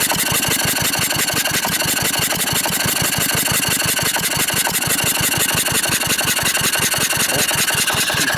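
A 1940s Wolseley stationary engine running steadily at a fast, even rhythm of loud, close, chugging firing pulses with metallic clatter and no pauses.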